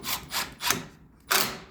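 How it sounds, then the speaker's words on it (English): A screw is driven into a pre-drilled wooden pigeon feeder, heard as three short grinding turns in quick succession, a brief pause, then one more rasping turn, close and clear. "you're going to take a screw. Like I said, they're already pre-drilled, and it's going to go right in"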